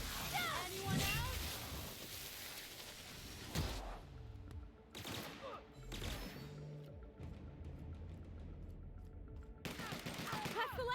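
Rapid bursts of gunfire and combat effects from The Outer Worlds video game fill the scene, with several volleys and splashy impacts over loud, continuous talking voices.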